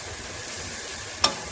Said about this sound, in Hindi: इसके साथ इसको तेज़ तेज़ घुमाते रहें ताकि अंडा जो है ना वो इकट्ठा ना हो और बारीक हो जाए।